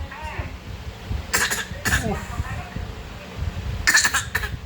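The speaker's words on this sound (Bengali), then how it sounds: "কাশি পাইনি, ইচ্ছে করে কাশি।" A baby produces several short, forced coughs in bursts, close to the microphone, with a brief exclaimed word and soft vocal sounds between them.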